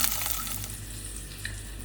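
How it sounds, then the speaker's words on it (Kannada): Eggs frying with masala spices in a pan, a steady close hiss and crackle of oil, fairly loud and unbroken for a couple of seconds. "ಅದಕ್ಕೆ ಮೊಟ್ಟೆ ಹಾಕಿ ಚೆನ್ನಾಗಿ ಫ್ರೈ ಮಾಡ್ಕೊತೀನಿ"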